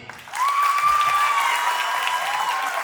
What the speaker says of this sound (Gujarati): જેમને જીતાડવું હોય એના માટે વધારે તાળી વગાડજો